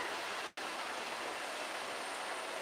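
Steady rain falls at night, a dense, even hiss that fills the whole clip apart from one abrupt, momentary dropout early on.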